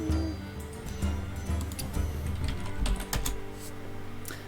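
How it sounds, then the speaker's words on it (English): Steady clattering of keys on a computer keyboard, quick and irregular, fairly close, with no one talking. "type on the wrong keyboards"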